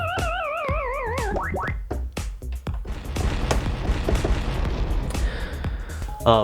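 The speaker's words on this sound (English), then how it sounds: "I have another sample here, the little DJ explosion, and a little Pac-Man." A synthetic DJ explosion sample from a Pioneer DDJ-SX2 controller bursts out after a few warbling electronic tones, leaving a broad, rumbling noisy boom that fades slowly.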